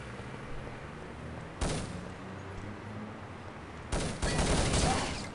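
Gunfire from a competitive video game semi-final match, with two loud broadband bursts standing out over a steady noisy background, one short volley early and a longer, heavier one near the end.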